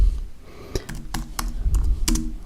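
Typing a command on a computer keyboard, with a quick irregular run of close crisp key clicks and faint room noise.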